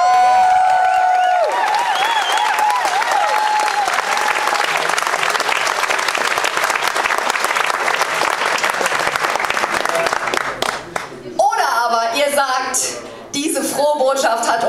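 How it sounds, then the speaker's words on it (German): A crowd claps loudly and continuously at a food-themed science slam at a Munich science and fiction festival. The dense applause runs for over ten seconds, with voices audible at the start and end. "Euer Applaus für Nathan Chidian!"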